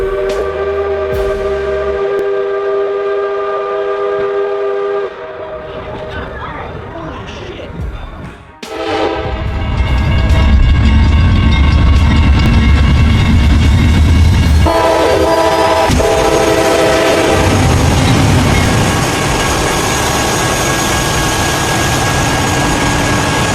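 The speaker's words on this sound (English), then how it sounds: "A metallic screech tore through the quiet air as the massive steel mass of the train barreled forward" A heavy steel freight train carrying shipping containers rolls along the rails, its loud horn blaring in long sustained blasts over a deep rumble and metallic screech that swells as the train passes close by.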